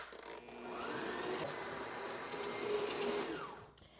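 An electric stand mixer blends water and honey for sourdough bread dough, its motor whirring steadily with a rising and falling whine for a few seconds, close and alone.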